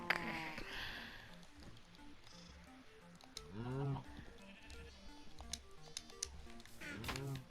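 Sheep in a settlers-style video game give several short wavering bleats over a quiet backdrop of light clicking and soft game sounds, with a voice talking faintly at times.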